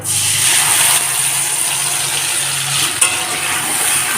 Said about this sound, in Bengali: এখন মাছ ভাজার তেলেতেই বাকি রান্নাটা করে নেব টমেটো আর সর্ষের পেস্টটা দিয়ে দেব